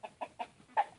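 A chicken clucking near a rural home, four short, close clucks in quick succession with the last one loudest.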